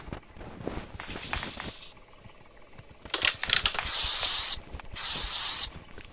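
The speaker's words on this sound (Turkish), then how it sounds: "Gel sana bir tane piper spreyi sıkayım." Pepper spray hisses in two long, loud bursts inside the horror game Granny, played on its extreme difficulty, following clattering footsteps and thumps.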